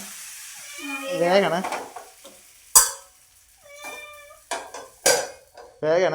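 Food is stirred in a hot pan, sizzling softly while a utensil scrapes and clinks against it in a few sharp knocks, with a voice speaking over it.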